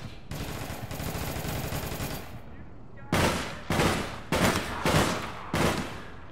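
Sniper gunfire in the online shooter APB Reloaded: a sustained burst of rapid fire gives way to a run of five loud, separate shots at a steady pace.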